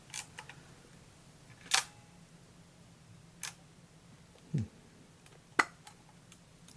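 A Voigtlander Prominent leaf shutter set to bulb fires with a few sharp, quiet clicks spaced over several seconds, each a brief mechanical tick, heard close against a faint background hum.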